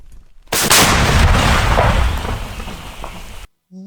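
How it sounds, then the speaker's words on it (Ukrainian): A single heavy artillery blast erupts abruptly, then a long rumbling roar and debris-like crackle fade out before cutting to quiet. "Постріл!"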